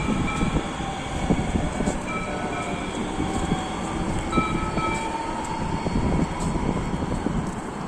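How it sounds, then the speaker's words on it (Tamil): A train runs past a rail station platform in the USA without stopping, a steady broad rumble and rail noise holding at moderate level throughout, with no clear voices. "இந்த சைடு போகிற ட்ரெயினும் வந்துருச்சு பாருங்கள்."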